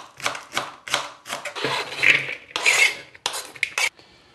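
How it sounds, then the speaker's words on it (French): A knife chops halved onions on a board, giving quick clusters of scraping, rasping strokes with short pauses between them, fairly close and clear. "On va couper un peu en deux ici et on va les hacher."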